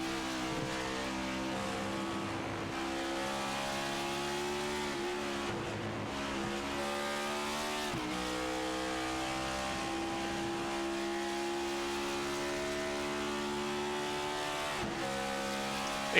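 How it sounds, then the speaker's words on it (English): A race car's engine drones loudly and continuously under engine braking on the run down to a turn, with pitch sweeps as it shifts, heard from a trackside broadcast. "Well, using a lot of engine braking, Constantinu is, to get down to turn 1."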